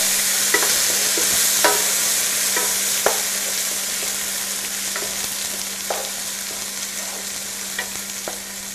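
A vegetarian tomato mixture cooks down in a pan with a steady, close sizzle and fry hiss, broken by scattered clicks and scrapes of stirring, with no one talking.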